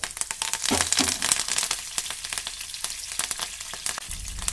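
Cumin seeds, fenugreek seeds, mustard seeds and garlic crackle and sizzle in hot oil for a spicy onion chutney, a steady close frying hiss broken by sharp popping spurts and a stirring clatter, with no talking.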